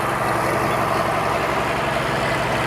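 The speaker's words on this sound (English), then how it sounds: "This is an international harvester, an 806 diesel tractor," International Harvester 806 diesel tractor running at a steady, loud low rumble with a continuous engine drone, close by and with no talk over it.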